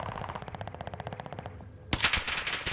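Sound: gunfire in the video game Warzone

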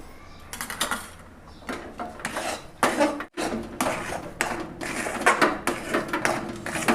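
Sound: mixing puran (lentil-jaggery filling) with ghee

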